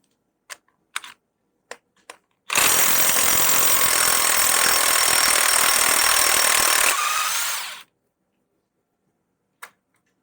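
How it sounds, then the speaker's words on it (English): A 32mm wheel hub centre bolt on a Renault Trafic is undone with a loud, steady mechanical whirr lasting about five seconds, bracketed by a few sharp clicks of tool handling before and one after. "Next, we're going to undo our centre bolt,"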